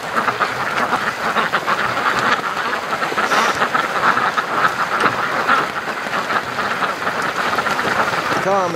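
Muscovy ducks in a rainy outdoor setting, with low quacking and rustling mixed into a constant wash of rain-like noise throughout, fairly close and steady with no clear voices.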